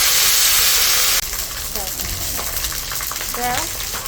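Whole cumin, cardamom, chili, cinnamon and bay leaf sizzle in hot oil, a steady loud hiss that drops slightly after a second, with faint stirring and clinks over the continuous frying.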